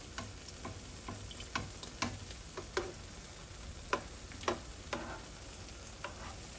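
Bamieh dough pieces deep-frying in oil, a quiet steady sizzle broken by scattered sharp ticks and pops from turning the pieces, close and soft.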